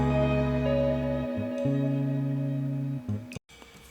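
A guitar trill run through delay for an Erykah Badu-style beat, rapidly alternating sustained, warm notes that hold for a few seconds and then cut off abruptly, heard alone.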